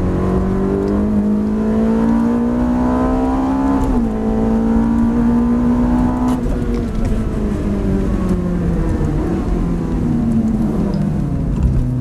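A Ferrari F430 drives on a race track, its engine droning loudly and continuously from inside the car as revs climb, dip and climb again over several gear changes.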